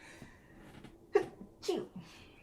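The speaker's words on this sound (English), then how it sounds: "Oh, I'm going to sneeze." A single sharp sneeze bursts out after a quiet breathy lead-in, followed by a second smaller sneeze and a soft exhale.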